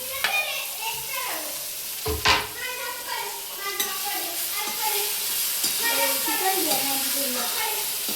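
Tomatoes cooking in a pan for Maggi noodles give a close sizzle and frying crackle with stirring scrapes, while voices, including a child's, talk over it.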